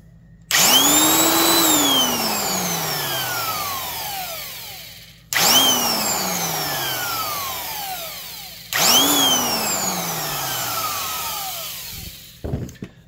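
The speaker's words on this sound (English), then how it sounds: "They're both heavy-duty drills." Three runs of heavy-duty Rockwell/Porter-Cable 1/2-inch electric drills, each motor whining up to speed and then winding down. Loud and close, with a short clunk at the end.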